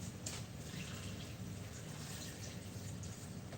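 Water pouring into a pot for cooking noodles, a steady hissing, splashing stream that runs continuously and fairly quietly throughout, with no talk.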